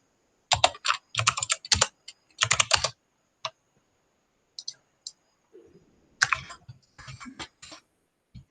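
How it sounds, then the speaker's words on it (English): Close, crisp computer keyboard typing comes in quick bursts of clicking keystrokes, with pauses and a few isolated taps, while someone briefly murmurs nearby. "Go to the client PC and type go to CMD and type GP update force."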